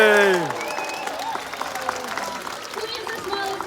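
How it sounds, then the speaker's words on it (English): Crowd at a SeaWorld orca show cheering and applauding, a broad wash of clapping and shouts under whistle-like tones that fades after the first moment. "she loves it when the whole crowd gives her a nice cheer"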